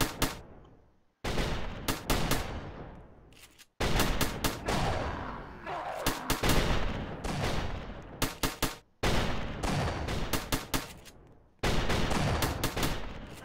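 Machine gun tower in Roblox Tower Battles fires in long, rapid, loud bursts of gunfire, separated by a few short pauses.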